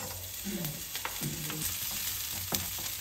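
Garlic and onion saute in a pan for Filipino pansit, a soft, steady sizzle with a few stirring scrapes and faint voiced murmurs at a low level.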